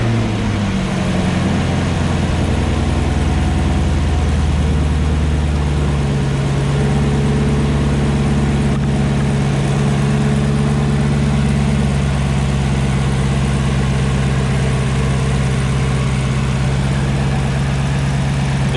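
A new Camaro ZL1's supercharged LT4 V8 cranks up and settles into a loud, steady idle after a cold air intake install, a deep, even rumble with a constant whine, heard close up without talk.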